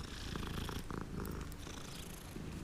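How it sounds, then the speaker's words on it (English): A cat purrs as it is petted in the video game Hogwarts Legacy. The purr is close and continuous, with a soft, rumbling throb and no talk over it. "I have to pet Kitty."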